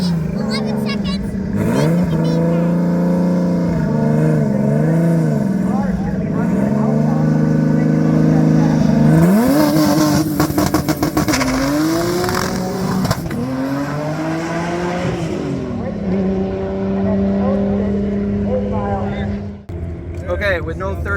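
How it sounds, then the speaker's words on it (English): A Toyota FRS with a swapped 2JZ-GTE engine launches at a drag strip, loud sustained engine drone with rising and falling revs, sharp bursts and wheelspin, voices talking over it throughout. "Did a couple of launches there and just went right into spin."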